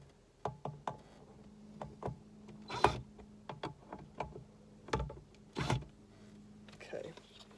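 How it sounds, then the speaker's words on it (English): Screws being tightened on a cat roost, heard as a string of soft, close clicks, ticks and knocks with a few sharper creaks, irregular and fairly quiet against a steady low hum. "I'm really not sure how tight to make these screws."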